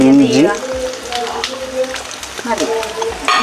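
Ginger pieces dropped into hot oil for a Kerala-style fish pickle, a steady frying sizzle with a sharp flare as they go in, running under a voice that speaks over it throughout.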